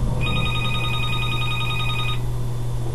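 A telephone rings in one trilling burst of rapid electronic pulses lasting about two seconds, clear and close over a steady low hum, then stops; nobody speaks.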